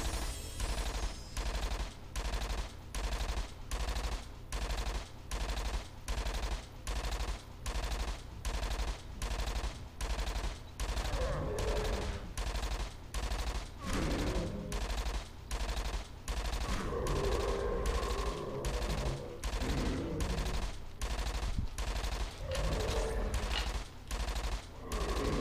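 Rapid automatic gunfire in a shooter video game, sustained bursts repeating in a fast, regular rhythm for the whole stretch, loud and close with no talking.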